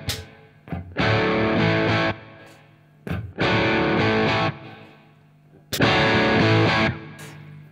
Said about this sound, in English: all of that really nice power amp distortion